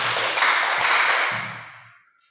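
A group of children in a classroom clapping game claps three times in unison, each sharp clap smeared by a roomy echo that lingers and fades away afterward.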